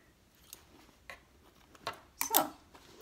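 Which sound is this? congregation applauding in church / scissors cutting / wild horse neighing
scissors cutting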